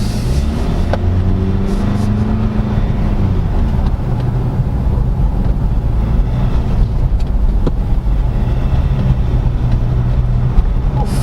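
A 2023 Ford Ranger Wildtrak 4x2 pickup accelerating hard on the road: a loud, steady cabin roar of engine, tyre and wind noise with rising engine tones, continuous throughout with no talk.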